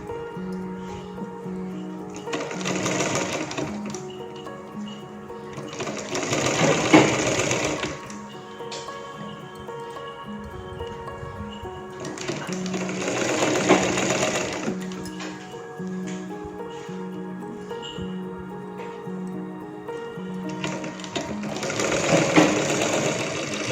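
A sewing machine stitches a sleeve onto a readymade churidar in four bursts of rapid mechanical whirring and clatter, each a few seconds long with quieter pauses between, close and fairly loud.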